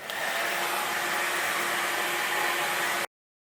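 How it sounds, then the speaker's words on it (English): A hair dryer blowing steadily and loudly at close range while hair is dried head-down for root lift, a constant rushing whir that cuts off abruptly near the end. "I initially blow dry it with my head down, hair forward, so it gives a bit of a root lift."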